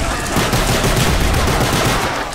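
Loud, rapid, unbroken gunfire from a gun that has not been upgraded, in the zombies mode of the video game Call of Duty: Black Ops, filling the whole moment with no talking.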